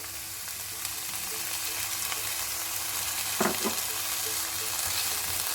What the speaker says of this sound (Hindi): चिलीज को भी थोड़ा सा सौते करेंगे।